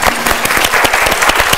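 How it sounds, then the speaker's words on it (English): Audience applause for a Japanese cultural club's traditional dance performers at a live show, a dense, steady burst of many hands clapping at close range, with no talking over it. "So let's give them another big round of applause."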